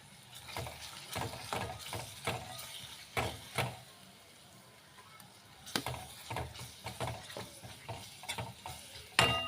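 Spices tipped into hot oil for a spicy wedding-feast style brinjal and potato curry, with a steady sizzle and repeated sharp scrapes and clinks of stirring at an uneven rhythm.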